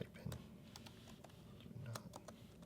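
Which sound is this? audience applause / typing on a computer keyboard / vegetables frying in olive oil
typing on a computer keyboard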